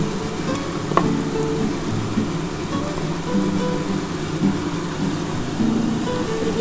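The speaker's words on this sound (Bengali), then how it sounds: "এই যে মশলার যে জলটা আছে এই জলটা আমি দিয়ে দেবো" Masala water hits hot oil for a Bengali pomfret curry, setting off a steady, loud sizzle with occasional stirring clinks and scrapes throughout.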